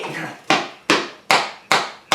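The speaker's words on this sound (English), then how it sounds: "I'm not, I'm hitting that fucking pad right there" A hammer strikes the soft armor pad of an Icon motorcycle jacket five times at a steady pace, each a sharp, close, heavy thud that dies away quickly.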